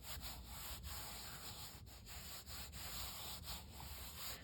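Glued chipboard being rubbed down by hand, a steady dry scuffing and brushing that continues for the whole stretch with a few brief pauses, close and fairly quiet with no talking.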